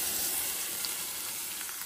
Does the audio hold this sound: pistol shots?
no